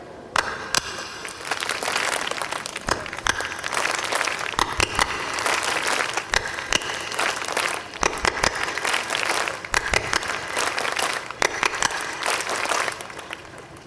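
A group claps hands in a rhythmic pattern, sharp claps falling in repeated bursts of varied tempo for nearly fourteen seconds, close and fairly loud, with no talking.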